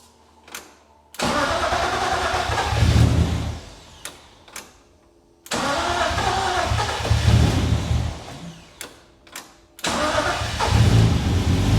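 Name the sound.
fuel pumps turning on in BMW E36 race car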